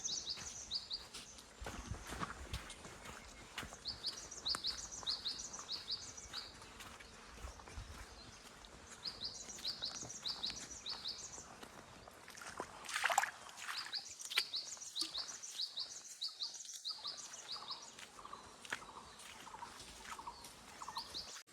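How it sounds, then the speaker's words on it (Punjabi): Faint chorus of forest birds calling in repeated short chirps and trills, mixed with insect buzzing and rustling, quiet and distant throughout. "ਹੁਣ ਤੁਸੀਂ ਇੱਕ ਵਾਰ ਪੰਛੀਆਂ ਦੀਆਂ ਆਵਾਜ਼ਾਂ ਸੁਣੋ ਜਿਹੜੇ ਇਸ ਜੰਗਲ ਦੇ ਵਿੱਚ ਰਹਿੰਦੇ ਆ"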